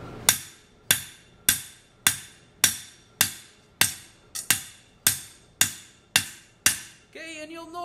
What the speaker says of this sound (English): I'm gonna take a ball peen hammer, and specifically I'm gonna use the ball end, and I'm just gonna dimple this flat bar